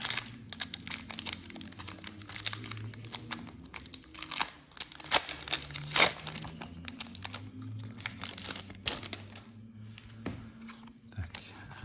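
Pokémon card packs from a Mewtwo Pokémon Go elite trainer box are torn and crinkled open, with dense crackling foil wrappers and rustling close up throughout and occasional brief sounds in between.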